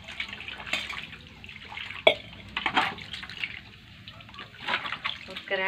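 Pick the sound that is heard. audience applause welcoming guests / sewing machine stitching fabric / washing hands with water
washing hands with water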